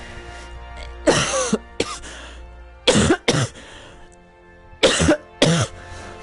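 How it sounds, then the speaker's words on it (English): A man has a loud, close coughing fit while narrating over Battlefield 1 gameplay: harsh coughs mostly in pairs, separated by short quiet gaps, with throat clearing. "Sorry about the coughing fit, guys."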